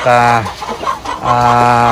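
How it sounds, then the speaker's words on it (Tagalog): Chickens cluck and squawk close by in two bursts, with a brief quieter gap of scattered clucks between them, on a farm raising hundreds of chickens in range and coops in Malaybalay City, Bukidnon. "Napakarami pa pong manok dito."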